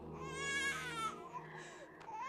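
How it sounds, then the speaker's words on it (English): A baby cries and wails, hungry and thirsty, a loud sustained sobbing cry that fades into softer whimpers over about two seconds. "And the baby started crying."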